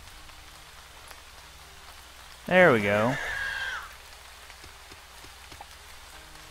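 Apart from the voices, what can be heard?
rain in Starbound video game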